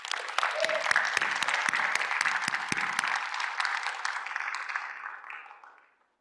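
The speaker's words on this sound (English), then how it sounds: "please give Ann Ordway a round of applause for being one of our secular stars." Audience applause for an honoree at a secular summit event, a dense burst of clapping that stays steady for several seconds and then tapers off to silence.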